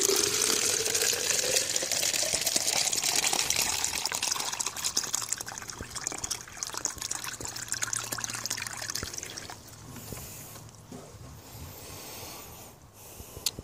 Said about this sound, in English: Let's pour in a little more.